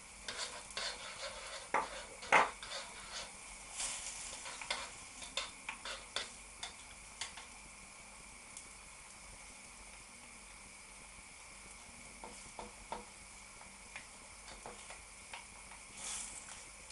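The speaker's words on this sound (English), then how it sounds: "I'm going to stir in the Marmite" A spoon scrapes and taps against a pan in quick irregular strokes, close by, stirring Marmite into noodles over a soft steady sizzle; the stirring thins out midway.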